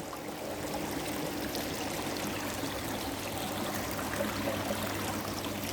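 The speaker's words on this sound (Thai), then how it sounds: "ตรงนี้ก็มีกระถางน้ำตก" Water trickling from a garden waterfall planter, a steady soft splashing and babbling flow with no speech.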